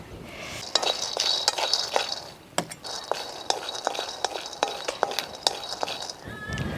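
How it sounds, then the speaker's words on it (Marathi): Dry peanuts rattle and click against a hot pan, with irregular taps and clinks as they are stirred, close and fairly crisp. "आता आपण शेंगदाणे भाजून घेऊ"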